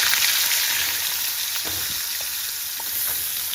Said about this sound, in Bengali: পটলগুলো একটু নেড়েতে ভেজে নিচ্ছি।